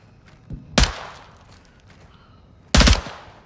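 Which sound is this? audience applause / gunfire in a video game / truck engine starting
gunfire in a video game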